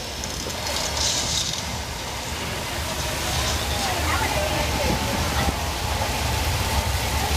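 Artificial rain pours across a sunlit studio backlot set at Universal Studios Hollywood, a steady hissing downpour spattering on surfaces, loud and continuous throughout.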